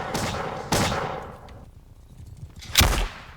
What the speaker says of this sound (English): So this is an actual musket sound, which I got a recording of.